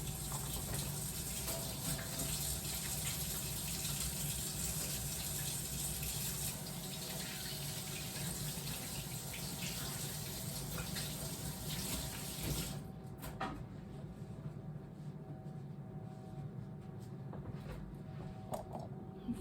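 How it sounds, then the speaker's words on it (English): Hands rinsed under a running kitchen tap during pastry making, a steady broadband rush of water that cuts off sharply partway through, leaving a quieter room tone with faint clinks. "So I'm gonna rinse my hands again"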